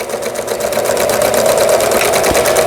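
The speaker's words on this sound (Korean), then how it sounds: "수리가 잘 돼서 박음질이 잘 됩니다" A repaired Pfaff sewing machine stitching steadily at high speed, its rapid even needle rhythm loud and close with no talk over it.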